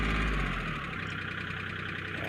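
A tractor engine runs at a distance on a farm, a quiet, steady mechanical hum with a faint rumble throughout.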